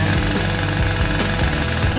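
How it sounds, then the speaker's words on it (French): A power saw cuts into a watermelon during a cake-decorating food challenge, giving a loud, steady, rattling mechanical buzz with a rhythmic pulsing chop, close and continuous throughout. "Et moi, je vais utiliser une scie."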